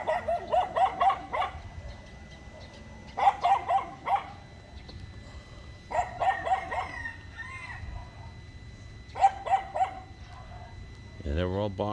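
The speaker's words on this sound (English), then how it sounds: "all the dogs in the neighborhood, you hear that? It's a cacophony of dog barking" Several neighborhood dogs bark on a beach in the Philippines, loud clustered barks arriving in four separated bursts with pauses between them.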